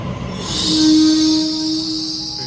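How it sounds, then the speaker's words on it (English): A passenger train running between stations, with a loud, close rumble, a high squeal of the wheels and a steady tone that swells and then eases off, heard alone without talk. "yeah, I'm definitely on this train."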